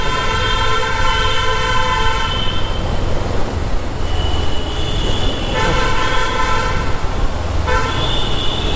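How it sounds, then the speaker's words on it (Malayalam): A Lucknow Metro train runs overhead amid a busy street: a steady, loud rumble and rush of traffic fills the scene, with repeated bright horn toots sounding on and off throughout. "ഇത് ലക്നൗ മെട്രോ"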